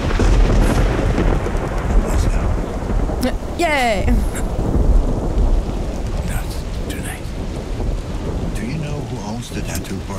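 Steady heavy rain falls with rumbling thunder in the video game Observer, loud and continuous throughout while a person talks and cheers over it.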